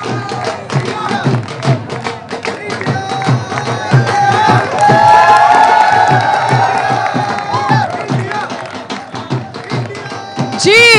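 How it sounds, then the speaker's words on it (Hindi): An audience claps and cheers to welcome former India bowler Murali Kartik onto the stage. The noise swells into loud sustained applause with whoops and shouts, and a voice talks over the crowd at the start. "जोरदार तालियों के साथ मुरली कार्तिक का स्वागत करेंगे"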